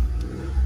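A Nissan Note with a badly crumpled front after a ramp jump gives a short, close engine rev, a brief rising roar with no voices.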